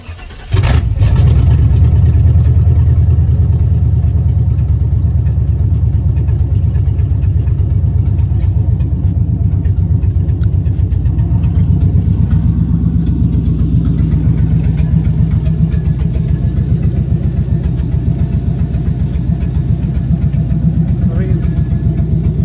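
Chevy OBS truck V8 running with JBA stainless shorty headers and no muffler, a loud, steady, deep idle rumble after a brief start at the beginning, sustained close by throughout.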